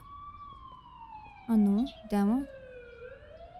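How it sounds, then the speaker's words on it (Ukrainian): An ambulance siren in the video game The Coma: Recut holds a steady, slowly falling electronic tone throughout, with a voice speaking briefly over it midway. "Чого швидка тут?"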